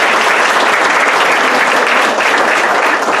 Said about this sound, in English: Now I'm going to ask that you hold your applause until the end